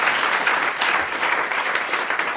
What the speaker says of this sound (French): Vous l'applaudissez.